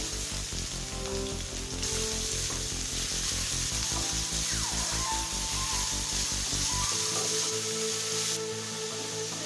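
Steady sizzling and crackling of finely chopped onions frying in hot oil with curry leaves and pepper, with a loud rhythmic pulsing underneath that drops away near the end.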